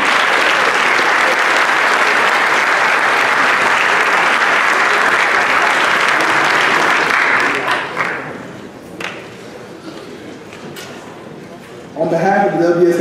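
A round of applause at a symposium for a guest speaker, dense loud clapping from a large audience for about eight seconds, then fading out, with a voice starting to speak near the end.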